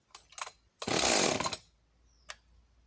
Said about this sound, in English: So I'll show you how she runs.